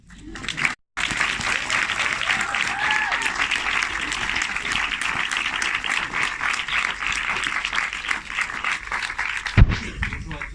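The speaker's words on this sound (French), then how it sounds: "j'aimerais bien qu'on l'applaudisse comme si c'était vraiment une rockstar, lui" A lecture audience breaks into sustained applause for a hospital doctor, dense clapping from many hands that holds steady for several seconds, then ends with a brief bump of sound.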